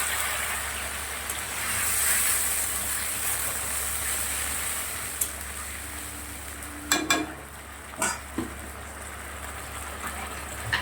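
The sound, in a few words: spice paste mixed with water added to a sizzling pan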